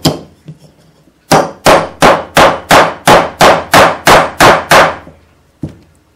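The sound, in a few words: plastic weighted hammer striking metal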